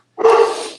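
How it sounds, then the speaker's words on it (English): A single close, loud dog bark rings out, short and sharp, with no talking around it. "That's my dog."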